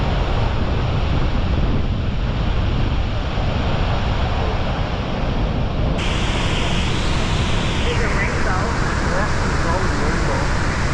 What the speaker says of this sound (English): You can absolutely feel the force of the water even from up here.